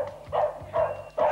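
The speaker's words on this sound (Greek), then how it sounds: "Έχουμε και σκύλο στο σπίτι." Inside a house, a dog barks three times in quick succession. The barks are sharp, close and loud, with short gaps between them.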